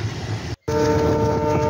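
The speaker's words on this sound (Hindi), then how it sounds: "देखिए धीरे धीरे अपनी गाड़ी स्पीड पकड़ रहा है इस समय" A train departs Barsathi railway station on the Pratapgarh–Janghai–Jaunpur line and picks up speed, making a loud, continuous rumble with steady tonal whine and a momentary dropout, close by.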